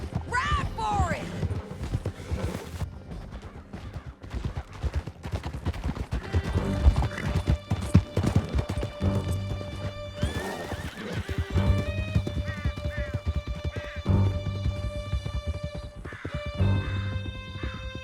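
Horses gallop and whinny in Red Dead Redemption 2, with a dense rapid clatter of hooves, loud neighs up close and game music swelling beneath, plus brief shouted voices.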